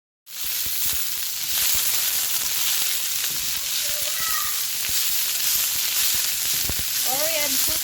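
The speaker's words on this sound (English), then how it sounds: "Cooking pichay. Ginisang pichay with egg, and then pichay with egg." Pichay (bok choy) with egg sautés in a pan, giving a steady, close sizzle that starts abruptly and runs on with faint clinks, with no talk.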